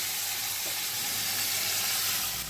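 Potatoes and brinjal fry in hot oil for a fish charchari, making a dense, steady, close sizzle and hiss with a faint low hum and no speech.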